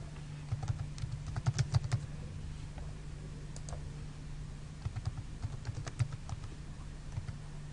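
Someone types a username and password on a computer keyboard, producing quick bursts of light key clicks with brief pauses, close but soft over a steady low hum, with no talk.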